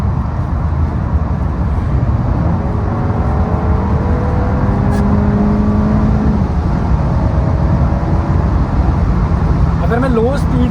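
A Mercedes A-Class A25 4Matic sedan cruising on a German autobahn, its petrol engine humming steadily at high revs under constant road and wind roar, heard from inside the cabin.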